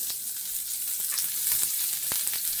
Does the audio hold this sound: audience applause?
no